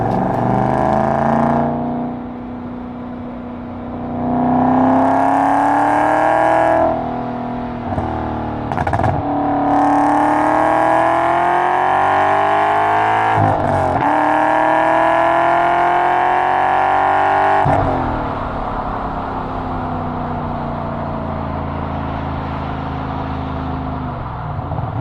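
BMW E34 540i V8 with Magnaflow exhaust and resonator delete accelerates hard in second gear, engine pitch climbing steadily and loudly in repeated sweeps with brief gear breaks, then settling.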